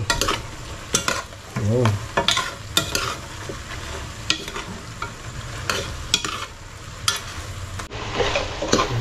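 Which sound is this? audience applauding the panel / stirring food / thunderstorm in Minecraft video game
stirring food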